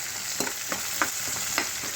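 Chopped onion frying in a pan for ridge gourd and chana dal curry, a steady broadband sizzle with a few scraping stirs of a spoon, close and continuous with no voices.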